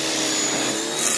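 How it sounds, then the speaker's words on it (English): A pressure washer with air in its lines runs close by, giving a continuous loud, even hissing roar with a slight sputter toward the end and no talking. "The pressure washer it's got air in the lines."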